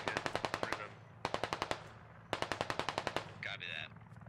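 Automatic gunfire in the tactical shooter Squad, three rapid bursts of evenly spaced shots with short pauses between, followed by a brief electronic tone, heard at moderate distance without talk.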